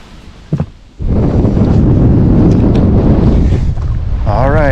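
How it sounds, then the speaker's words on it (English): Heavy wind on a lake during fall bass fishing buffets the microphone in a loud, continuous roar that kicks in suddenly after a quiet second and keeps blowing. "as promised, it's windy. Really windy."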